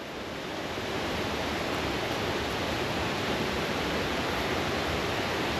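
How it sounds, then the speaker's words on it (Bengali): A waterfall in Lisbon, Portugal, roars in a steady, dense wash of falling water, loud and continuous throughout with no voices. "একটি ঝর্ণা দেখানোর জন্য। লিসবন পর্তুগালে অবস্থিত।"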